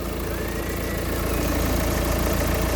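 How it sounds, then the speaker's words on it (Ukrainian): A Kia Sportage 1.6 CRDi mild-hybrid diesel engine idles steadily at close range, a low continuous rumble with a faint mechanical ticking, loud and even throughout. "Двигун працює ідеально."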